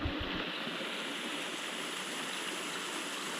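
A small waterfall in the Aliyar reserve forest near Valparai gives a steady, even rush of falling water at moderate distance. It continues unbroken, with no voices.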